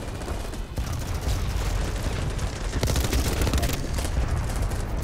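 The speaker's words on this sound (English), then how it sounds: "they are spamming grenades" Repeated grenade explosions mixed with steady gunfire in the online shooter BattleBit, a dense, continuous barrage of booms and rattling shots with a few sharper cracks standing out.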